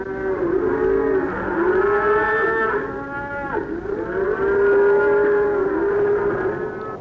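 Cattle being loaded onto stock trains in Australia low repeatedly, loud and close, with long overlapping moos from several animals and no pauses.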